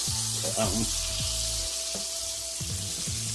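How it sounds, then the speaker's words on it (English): Chuck roast sears in butter in a pan with a steady, close sizzle and spatter throughout. No one speaks. "sear this meat real good. Okay. Get it nice and brown."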